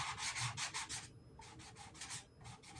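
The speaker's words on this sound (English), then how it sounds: "lightly sand, and it doesn't take much" A playing card is lightly sanded in short rhythmic back-and-forth rubbing strokes, close and crisp, with a brief pause partway before the scratchy passes resume.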